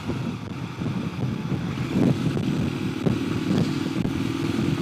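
Constant motorcycle engine drone mixed with heavy wind buffeting from a helmet-mounted Sena 10C Evo camera while riding, loud and unbroken with no speech.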